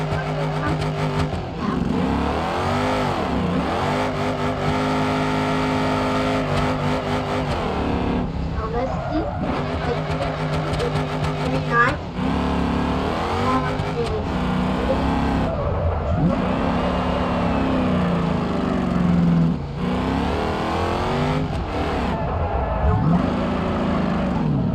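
A car engine revs and strains through drift runs in the BeamNG Drive driving game, rising and falling in pitch with tire skids, loud and continuous under steady talk.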